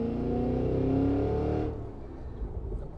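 A 2023 Cadillac Escalade-V engine with performance exhaust revving at partial throttle, a loud, steady low rumble that holds for about a second and a half before dropping to a quieter idle-like burble.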